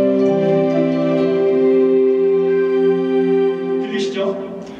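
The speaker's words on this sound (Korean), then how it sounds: "피아노랑 뭐 스트링 같은 거 섞어보는 걸 한번 해보겠습니다" On a synthesizer at a 2017 festival demonstration, piano, electric piano and strings are layered into one sustained chord. It rings rich and steady, then fades as brighter bell-like notes shimmer near the end.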